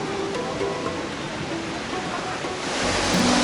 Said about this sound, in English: It's a waterfall there.